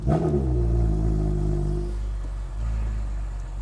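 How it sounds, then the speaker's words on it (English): A cold 2009–2016 Porsche Boxster or Cayman engine starting up and revving, a loud deep rumble that swells and then settles into a steady idle. "So let's go turn the engine on."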